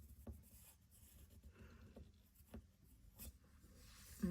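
A pencil writes copperplate letters on paper, giving faint, close scratching and rubbing strokes in short irregular bursts with quiet pauses between them.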